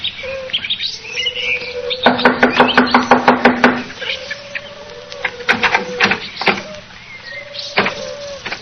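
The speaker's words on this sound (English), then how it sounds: "I'll knock on the door." Knuckles rap on a door in a quick run of about ten sharp knocks, followed by a few scattered louder knocks, with faint chirping and creaks behind.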